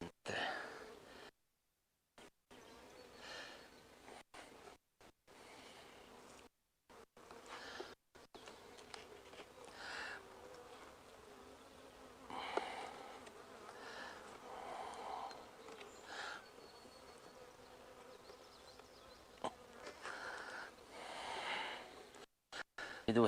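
Bees from an opened beehive in a summer apiary hum steadily as a low, continuous buzz with brief gaps, fairly faint, while a voice speaks nearby.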